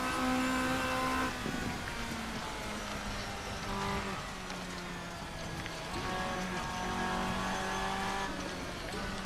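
Race car engine in a racing simulator game, held at a steady high pitch through a lap with shifts and tire squeal, while a commentator talks over it.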